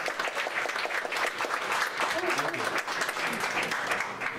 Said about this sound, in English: So, round of applause for Dan.